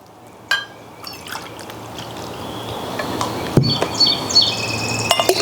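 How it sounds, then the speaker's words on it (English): Water poured from a measuring cup into a jar, a soft liquid trickle that grows gradually louder, with small splashes and clinks, with no talk. "I'm going to pour, let's see how many cups it's going to take to fill this jar up"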